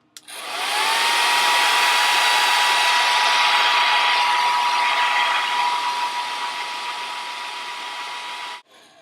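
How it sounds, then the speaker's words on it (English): A hair dryer blows continuously at close range, a steady loud whirring rush that runs for several seconds before clicking off. "To speed the process up, hairdryer."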